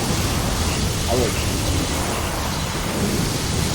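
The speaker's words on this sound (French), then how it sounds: "Les éclairs! Ne laissez pas vous toucher!" Thunder rolls through a lightning storm in the video game Gears 4 as a loud, broad rumble over a constant wash of rain-like noise, with no clear speech.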